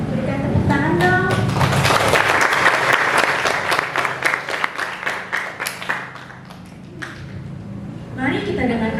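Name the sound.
applause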